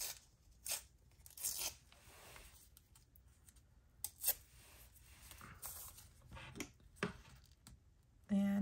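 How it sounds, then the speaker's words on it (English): Washi tape is peeled in short, dry tearing strips, a few separate rips spaced over several seconds, close and quiet with faint handling clicks between. "I'm gonna try peeling this first before taking the backing off."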